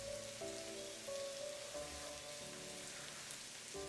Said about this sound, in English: Now you're just going to saute everything together until the veggies are tender and fragrant.